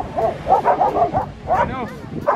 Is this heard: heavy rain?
no